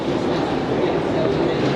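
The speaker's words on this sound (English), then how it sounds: "Here's the entrance into the tube Euston station." Steady, dense ambience at the entrance to Euston tube station in London: a constant low rumble and wash of indistinct crowd noise, with the even hum of the underground station filling the space throughout.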